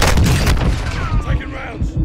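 Gunfire in Call of Duty rattles in loud, dense bursts of booming shots, heaviest at the start and then thinning, with a brief whizzing sweep in the middle.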